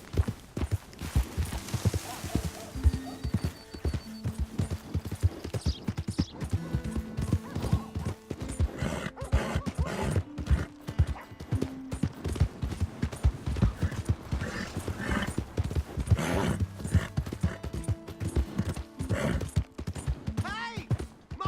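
Horse hooves clip-clop steadily in Red Dead Redemption 2, a rhythmic trotting of a horse with occasional whinnies, game music and other effects layered underneath, continuing throughout.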